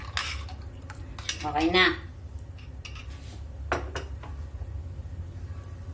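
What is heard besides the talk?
stirring a pot of fish stew (sinaing na isda)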